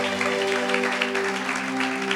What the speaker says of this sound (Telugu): గట్టిగా చప్పలు కొట్టండి ఒకసారి